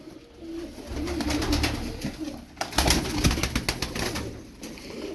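Turkish tumbler pigeons, kept as flying birds, coo in soft, repeated throaty calls close by, with several birds overlapping against a steady background.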